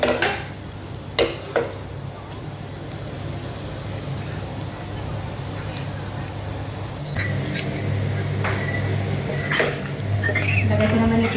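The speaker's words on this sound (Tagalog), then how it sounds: "Hinihalo ko na itong tanglad dito sa ginigisa kong bawang sibuyas" Lemongrass stirred into garlic and onion sautéing in a pan gives a steady sizzle with scraping and clinking of a utensil against the pot throughout, close and continuous.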